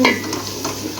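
Tomatoes frying in a pan, a brief close sizzle with stirring scrapes and a faint clink at the start.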